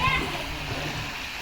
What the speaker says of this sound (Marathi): सगळेजण पाण्यामध्ये खेळत आहेत